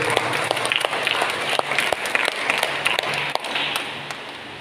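Church congregation at a Tamil Catholic Sunday Mass for the first Sunday of Advent clapping their hands, a steady, sharp, fairly close patter of many hands with faint voices underneath.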